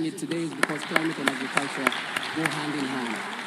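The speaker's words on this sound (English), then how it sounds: "A warm round of applause for everyone and the leaders that we currently have that are pushing." A forum audience at Africa's Food Systems Forum 2023 claps in a loose, regular rhythm, distinct sharp hand claps repeating every fraction of a second beneath a speaking voice that continues over them.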